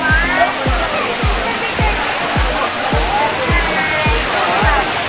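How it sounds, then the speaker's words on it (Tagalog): A long waterfall at Bato Spring resort in San Pablo, Laguna roars steadily and strongly nearby, with a regular series of dull low thumps and a voice talking over the rushing water. "Ayan ang mahabang falls. Dito yan sa Bato Stream. Yan ang lakas ng agos."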